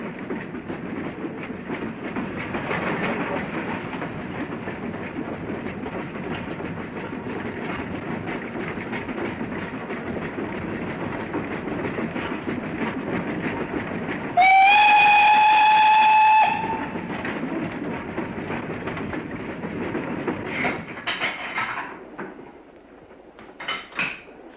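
Branch line train rolling along single track with a steady rumble and rhythmic clatter of wheels, then a loud two-tone whistle blast lasting about two seconds before the running noise carries on and fades.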